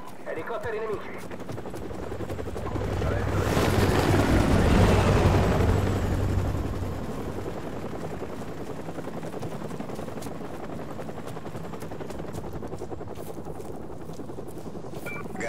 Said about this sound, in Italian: Elicotteri nemici.